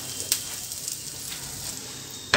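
Pav bhaji masala with chilli powder and coriander frying in a pan, a steady faint sizzle running throughout with a couple of brief sharp crackles, no voices.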